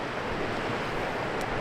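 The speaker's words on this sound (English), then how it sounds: "And look at the stream coming down too." Steady broadband rush of a mountain stream flowing near an old mill in a remote Alaska mountain ghost town, continuous and fairly close with no voices.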